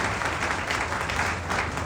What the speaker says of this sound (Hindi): तालियों से हमें जरूर संबोधित करिए